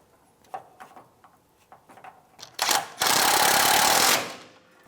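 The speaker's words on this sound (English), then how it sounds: "Now we're going to tighten the nut up" A shock absorber nut on a 2015-2020 Cadillac Escalade rear suspension is run down with a socket: scattered ratchet clicks and taps, then a loud sustained burr of a power tool for about a second before it winds down.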